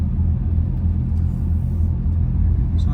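A car drives slowly into a car park to find a space, its engine a steady low rumble heard from inside the cabin, loud and even throughout.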